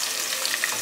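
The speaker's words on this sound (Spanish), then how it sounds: "Echamos la carne y yo le cambié de olla por de sartén" Beef frying in a frying pan after tomato has been sautéed, a brief continuous hiss of sizzling fat, close and even in level, with no voices.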